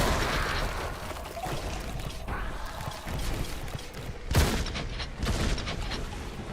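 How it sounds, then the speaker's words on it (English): Heavy bolter fire in a Warhammer 40K action game, a rumbling barrage with one sharp boom partway through, loud and dense over a continuous noisy background with no talk. "I love the idea of this guy like jumping and flying through the air, firing a heavy bolter."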